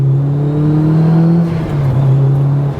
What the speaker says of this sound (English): If I'm revving, like right now, drop it into third